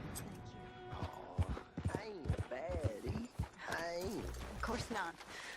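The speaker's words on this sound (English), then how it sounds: "Tá vindo por aqui, ó. O cavalo dela." Horse hooves clop closer in the video game Red Dead Redemption 2, a steady beat under voices that talk through most of the clip.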